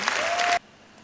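Applause for the young women organisers at a youth summit: a short burst of dense clapping from an audience that cuts off abruptly after about half a second.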